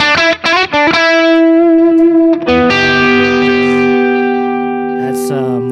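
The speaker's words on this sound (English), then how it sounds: "a hotcake type pedal for some dirtier rhythms" Electric guitar through a Hotcake-type overdrive pedal, a few quick picked notes giving way to gritty, sustained chords that ring out loud and up close, played alone.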